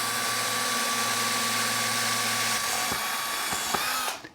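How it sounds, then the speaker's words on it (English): Power drill boring a hole for a boat guide post lamp, a steady close whine for about three seconds before it stops, with a few knocks, then cutting out. "Drill another hole."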